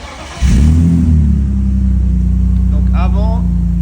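A BMW E30's engine catches and settles into a loud, steady idle rumble with a slight revving edge, close by, while a voice speaks briefly over it near the end.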